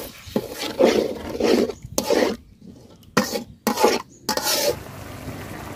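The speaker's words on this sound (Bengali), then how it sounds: "মশলাটা আমি খুব সুন্দর করে ভাজা নিছি" Ground spice paste being fried and stirred in a pan with a splash of water, heard as loud, close, rhythmic scraping bursts separated by short pauses.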